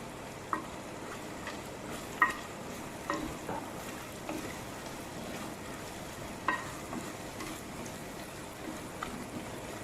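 Spicy desi-style potatoes stirred in a pan after coriander and cumin go in, a faint frying hiss broken by scattered scraping clicks of the spoon against the pan, quiet and close with no talking.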